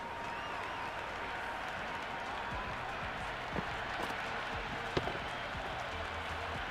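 A stadium crowd cheers and applauds during an IPL cricket match in the Cricket 26 video game, a steady, distant wash of noise with a few sharper pops rising out of it.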